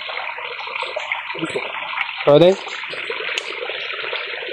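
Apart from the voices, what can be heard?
spring water being filled into a container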